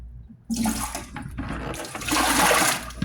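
Water is poured into a pot for boiling chicken for soup, starting abruptly as a loud, close rushing splash that continues steadily and swells toward the end.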